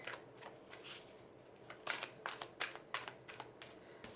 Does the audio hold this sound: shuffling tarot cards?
yes